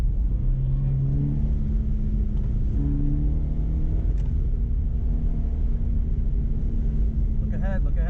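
An engine rumbles and revs steadily while the throttle is rolled on during a ride in traffic with SUVs around, and people talk over the noise throughout.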